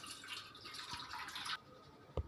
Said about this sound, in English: We're just going to strain it.